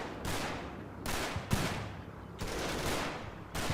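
A .50 cal machine gun in the Normandy wargame Combat Mission: Battle for Normandy chatters in long, loud sustained bursts separated by brief gaps, the bursts rolling one after another.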